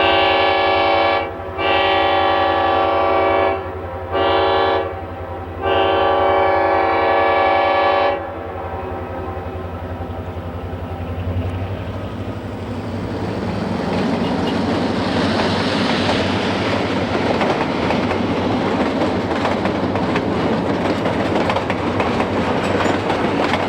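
An Alaska Railroad shuttle train between Portage and Whittier sounds its horn in several long loud blasts, then rumbles and clatters steadily along the rails, growing louder as it passes close.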